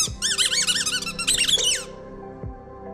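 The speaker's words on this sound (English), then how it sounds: "And it's got a squeaky thing in it. I can step on it." A squeaky Kong ball dog toy is stepped on repeatedly, giving loud, high, wavering squeaks in quick bursts, close by, followed by a couple of softer thuds.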